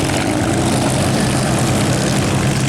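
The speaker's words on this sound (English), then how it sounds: "touching down in the Corsair" A Corsair warbird's piston engine roars close and loud as the aircraft touches down, a dense, steady propeller drone with no voices.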